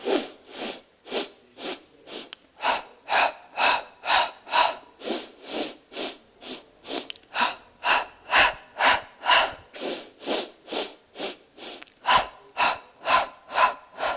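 Slow, even breathing during a Pilates exercise, about thirty close, loud breaths in and out in a steady rhythm with short gaps between them, heard alone with no talking.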